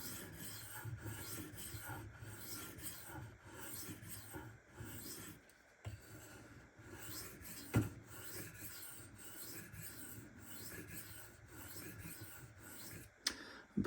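A Dalton Green Dragon knife is drawn across a Shapton Kuromaku 1500 grit whetstone in a steady series of close, quiet rasping strokes, with a few small clicks between passes and no talk.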